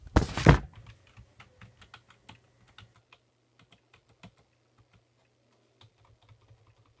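Computer keyboard being tapped during a German truck simulator game session: a loud initial thump, then sparse, irregular single key presses, close and fairly quiet in an otherwise silent room.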